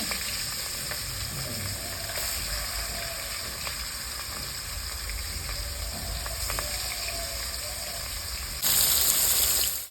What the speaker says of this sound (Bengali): সর্ষের তেল ভালো করে গরম হয়ে গেছে এবার মাছ ভেজে দেবো